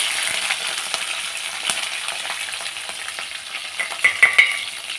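Curry leaves and green chillies sizzle loudly in hot oil for upma, giving a steady crackling hiss broken by sharp pops, with stirring clatters near the end.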